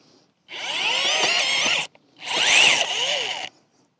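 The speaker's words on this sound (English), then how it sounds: "it's attached to a DeWalt drill" Two bursts of a DeWalt cordless drill with an auger attachment whirring as it bores into the ground, each lasting over a second, separated by a brief pause, close by.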